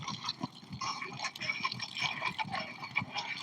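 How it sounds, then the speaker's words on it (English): Urine splashes into a small hole in the ground outdoors, a steady trickling, watery pour that runs for a few seconds, close and moderately loud. "So I'm like trying to pee in it."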